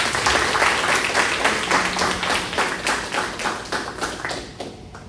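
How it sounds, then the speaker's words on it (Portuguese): A church congregation gives strong, sustained applause, many hands clapping in a dense, slightly rhythmic wash that gradually thins and fades toward the end. "Dê um forte aplauso ao Senhor."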